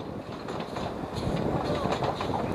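Small slate quarry steam locomotive working on the Llanberis Lake Railway beside the old Dinorwic Quarries, heard as a steady broadband rolling rumble with rhythmic rail clatter, fairly close and continuous throughout.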